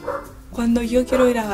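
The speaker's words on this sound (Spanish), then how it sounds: "Disculpen mi perro que se pone a ladrar siempre" A pet dog barks twice, loud and close, its yelping barks overlapping someone speaking Spanish.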